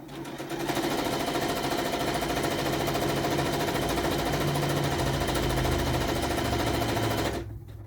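A sewing machine stitches steadily along the short edge of two fabric pieces for a small handbag, a loud, even mechanical whir running for several seconds before stopping abruptly near the end.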